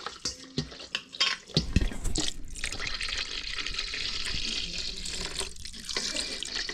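Liquid pours steadily into a pot while cooking chicken leg quarters with jalapeno jelly and mixed berry on a pellet smoker, a continuous watery splashing rush after a few short clinks and splashes at the start, close and fairly loud, with no talking.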